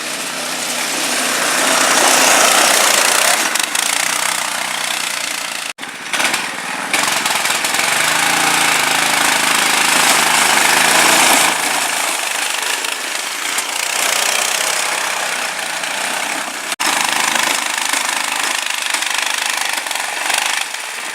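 A go-kart engine with a fault runs loud and close, a harsh buzzing drone that holds steady for about twenty seconds, broken by two brief cutouts near six and seventeen seconds.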